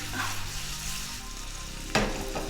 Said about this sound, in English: So our oil's heated, so we're gonna go ahead and throw in our steak.